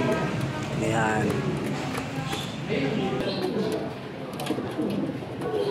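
Pigeons or doves coo in a backyard coop, a hen among the birds, with repeated soft calls close by under ongoing people's talk and movement.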